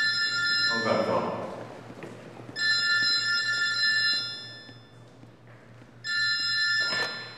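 A telephone rings in repeated electronic bursts, three trills separated by short pauses, with a low steady hum and faint sounds underneath.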